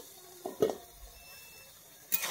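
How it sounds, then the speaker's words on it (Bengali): A spatula stirs banana stem (kolar thor) curry in a pan in a quiet village kitchen, giving a few faint brief scrapes and a soft clatter near the end over low background. "আমি এইভাবে একটু খুন্তির সাহায্যে একটু ঘেঁটে দিচ্ছি"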